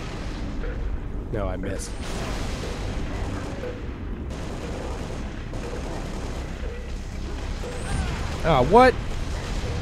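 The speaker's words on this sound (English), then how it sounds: "Where did he throw that grenade that actually hit me?" Grenade blasts and battle noise from the shooter game Halo: Reach make a dense, loud wash of booms and gunfire that runs throughout, with a sharper burst near the end, while players talk over it.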